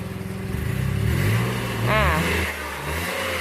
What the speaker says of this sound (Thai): แอนลองกดหน่อยดิสามพันสี่พันลองเหยียบคันเร่งลึกดู